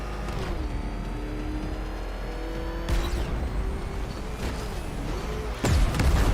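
A car driving fast in a Batman video game, a steady loud engine drone with shifting pitch and a couple of sharp impacts, no voices.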